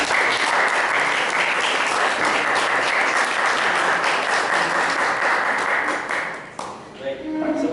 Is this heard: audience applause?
yes